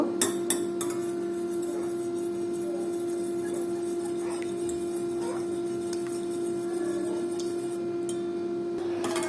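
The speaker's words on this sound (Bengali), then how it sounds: "এর মধ্যে চারটা ডিম দিয়ে দিয়েছি তো এটা আমি খুব ভালোভাবে মিক্সড করে নেব সুন্দরভাবে ফাটিয়ে নেব" Four eggs whisked in a bowl: rapid, continuous metallic ticking and tapping of a utensil against the bowl over a steady background hum, close and fairly even in pace, without speech.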